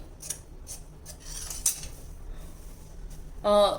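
Scissors snipping through blouse fabric as front and back pieces are cut, several short crisp cuts spaced unevenly, close and fairly quiet, with a brief squeaky scrape at the end.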